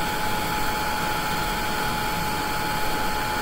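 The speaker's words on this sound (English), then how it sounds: "melt this embossing powder" A heat tool blows steadily while melting embossing powder, a constant loud airy hiss and whir with no breaks, close and alone.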